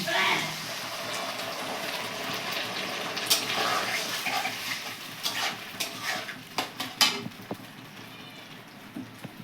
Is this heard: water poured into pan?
yes